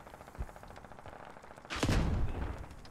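Gunfire in the video game Squad as an Abrams tank is destroyed: a soft thump early on, a run of faint rapid ticking, then a loud broad blast with a rumbling tail near the end.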